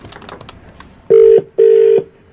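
A telephone on a call-in prank radio show gives two long, loud ringback tones separated by a short pause, heard alone after faint keypad-like sounds.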